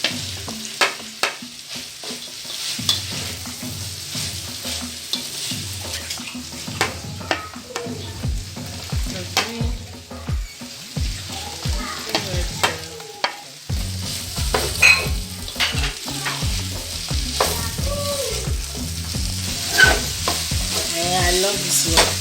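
Vegetables and carrots stir-frying in a pan, with continuous sizzling broken by repeated sharp scraping and clanking strokes of a utensil against the pan, close and fairly loud, with no talk.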